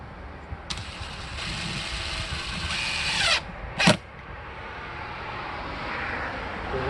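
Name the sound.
screwing a security camera mount into place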